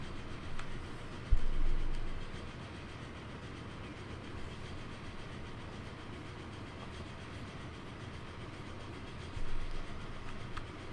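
A train in Transport Fever 2 rolls along old, slow track, a steady low rumble of wheels with a soft rattle and two brief heavier clunks, continuous and alone without talk.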